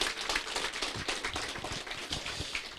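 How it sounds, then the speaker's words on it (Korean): An audience at a network business seminar applauds a company CEO being welcomed to the stage, with soft, steady clapping heard from a distance. "우리 대표이사님께 큰 박수 한번 부탁드립니다"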